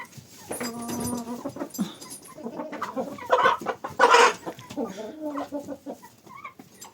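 Hens and a rooster cluck and peck while eating fat, giving close, soft, irregular clucks mixed with brief louder calls, with a person talking quietly among them.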